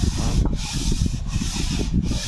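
Steady, rough scraping of number 100 sandpaper rubbed back and forth by hand on a metal cylinder head, with short regular pauses between strokes, close and continuous.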